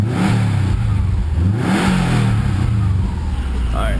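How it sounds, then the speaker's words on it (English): A 2006 Subaru WRX Limited Edition with a Greddy turbo timer, its engine given a short rev: a loud, near throaty rise and fall in pitch over a steady rumble, without talk. "Just give it a little rev."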